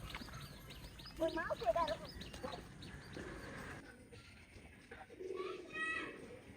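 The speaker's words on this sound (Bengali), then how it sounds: "শালিক পাখি যেভাবে ঠোঁট বোঝাই পাঠাচ্ছে ভাত দিয়ে" Common myna birds calling nearby with short chattering notes, heard under people talking close by.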